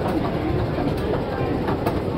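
An MTR train arrives at Lai King station in Hong Kong, giving a loud, steady rumble with faint rail clatter and a few soft clicks, while voices murmur underneath.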